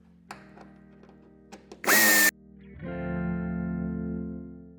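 A power drill removes screws from a 2018 Renault Kadjar with the hood open: a short, sharp, high-speed burst, then a longer, lower, steadier whir as the screw spins out, close and clear.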